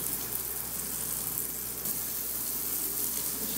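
Shiitake mushroom caps stuffed with minced meat sizzle steadily in an oiled pan, a soft continuous crackle with no voices.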